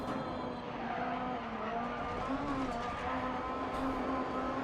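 Rally car from DiRT Rally run flat out in 5th gear during a Super 1600 rallycross event, a steady loud engine drone with a sustained pitch and faint tyre noise, no talking.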